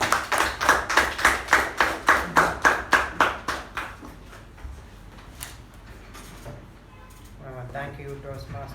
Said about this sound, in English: Fellow Toastmasters, please help me welcome our President Toastmaster Gaurav with a huge round of applause.